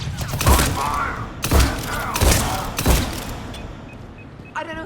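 Several heavy gunshot bursts from a Mass Effect sci-fi shooter game, loud and booming, fired in a ragged rhythm of about four blasts, with a short electronic chirp at the end.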